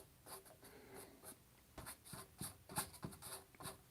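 Pencil sketching a rough drawing on paper: repeated short scratchy strokes in quick irregular bursts, close and fairly quiet, with no talking.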